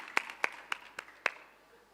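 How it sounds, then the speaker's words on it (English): A handful of sharp, separate hand claps at a World Economic Forum plenary session, five distinct close claps in quick succession rather than a full crowd ovation. "A big round of applause."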